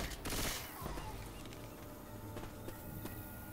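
Shotgun fire in Left 4 Dead 2: a loud blast opens, followed by several sharper shots spaced across the stretch over a busy game din.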